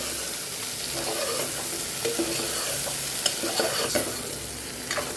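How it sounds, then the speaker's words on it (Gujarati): Spices, eggplant and potatoes sizzle and fry in a pan for a Kathiyawadi-style stuffed eggplant and potato dish, with a steady close hiss broken by occasional scrapes and clinks of a stirring spoon. "મસાલો સતળાય છે અને સાથે રીંગણા પણ સતળાય છે"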